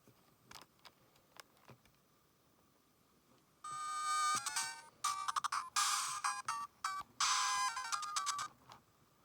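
Flintstones video game starting up on a Dendy console, its chiptune title music and jingles entering abruptly after a few seconds of quiet handling clicks, then playing in loud bursts with short gaps.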